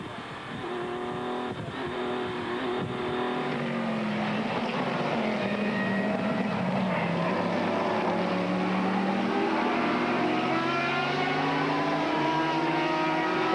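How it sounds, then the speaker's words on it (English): Nissan V6 sports racing cars and Ferraris roar past on a drying circuit during a 2000 Sportscar World Championship race, a loud continuous engine drone with shifting pitch that rises and falls as the cars pass, with faint commentary beneath. "Nissan V6 Power as the Ferraris too go past."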